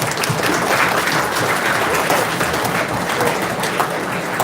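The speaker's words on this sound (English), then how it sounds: "I'm going to give you guys a round of applause myself" A loud, continuous round of applause fills the room at the Sackville Flyers hockey awards banquet, with many hands clapping together at close range and no break.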